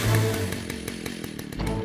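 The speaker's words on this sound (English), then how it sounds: "I'm going to switch the chainsaw on." Cartoon chainsaw engine being pull-started, a near, loud buzzing motor with a rhythmic chugging pulse that settles into a steady run over a couple of seconds.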